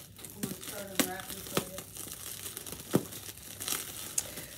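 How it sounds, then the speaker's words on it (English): Packing peanuts rustle and crunch in bursts, close and crisp, with soft handling noises between the louder crinkles. "Now that there's packy peanuts everywhere."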